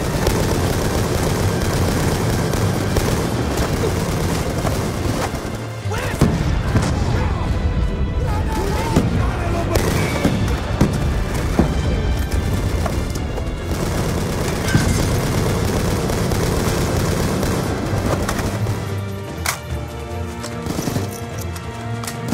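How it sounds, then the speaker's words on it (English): Mortar shells explode in Black Ops 2 during the Pyrrhic Victory mission, heavy booms and dense gunfire rolling continuously under shouted voices, with loud blasts landing close throughout the battle. "Incoming mortars!"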